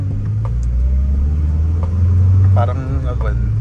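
A 1987 Mitsubishi Lancer box-type engine, around 75 to 80 horsepower, rumbles loudly up close, swelling briefly as it revs, while someone talks over it.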